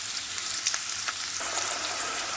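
Ground spices sautéed with browned onion for a red chicken curry, a steady close sizzle with a few soft stirring knocks and no speech.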